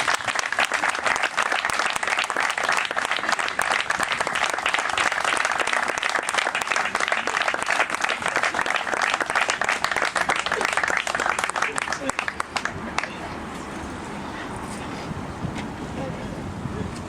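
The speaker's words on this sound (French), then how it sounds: "On peut applaudir très fort" A crowd applauds loudly and continuously at a ceremony naming a roundabout in Port-de-Bouc. The sustained clapping fills most of the clip, then thins to a softer, steadier patter with some outdoor noise.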